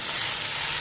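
Okra frying in hot oil with salt gives a steady, close, bright sizzle that fills the short moment evenly with no voices.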